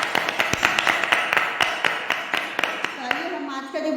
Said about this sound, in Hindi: परमेश्वर पिता का जोरदार तालियों से स्वागत करते हैं